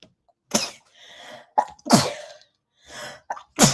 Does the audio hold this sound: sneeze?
yes